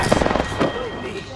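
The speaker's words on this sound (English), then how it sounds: "The enemies are shooting at me." Enemy gunfire in Apex Legends, a quick string of muffled shots sounding at a distance for about half a second, then a faint thump, with a voice talking over it.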